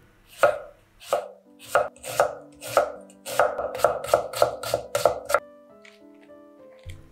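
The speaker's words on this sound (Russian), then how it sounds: "одну большую луковицу нарезаю полукольцами" Knife chopping through an onion on a cutting board, a dozen crisp thuds speeding up into a quick steady rhythm, close and clear with no talking.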